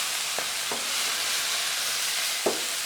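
Vegetables are dry stir-fried in a pan, giving a steady, close frying hiss with a few soft scrapes and knocks from stirring, with no voices.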